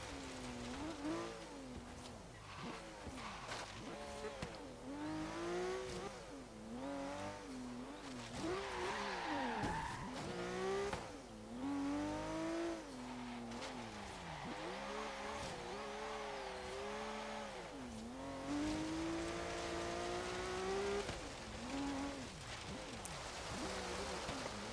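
A 1971 Meyers Manx dune buggy in Forza Horizon 3 autocross slides through corners, its engine revving up and down in waves while tires squeal repeatedly, loud and continuous with no talk.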